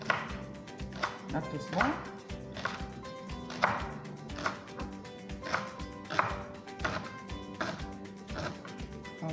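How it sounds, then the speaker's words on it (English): A knife chops leek on a cutting board in a steady run of crisp, close taps, roughly one every half second, while a voice speaks briefly over the chopping. "now I'm cutting up my leek."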